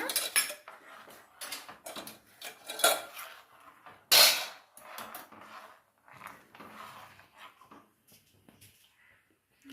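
Thick jaggery syrup being stirred in a pan for peanut sweets, irregular close scraping and clinking of a spoon against metal in short bursts, fading toward the end.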